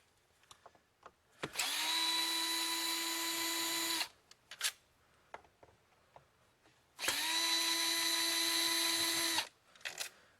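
Two sustained whirring bursts of a power driver backing out hidden screws from the housing of a Kirby Generation vacuum cleaner, close and loud, each lasting a few seconds, with light clicks and handling noises between them.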